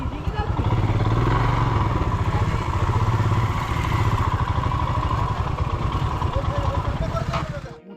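A motorcycle engine putters steadily up close while parking near Jonha Falls, a low rhythmic idle that holds for several seconds before cutting off at the end.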